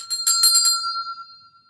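Bright bell struck a few times in quick succession, then one clear ringing tone that fades slowly to silence, fairly quiet and alone.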